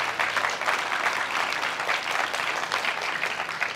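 A church congregation claps loudly and steadily for the Lord during a sermon, dense applause filling the room with no voices over it.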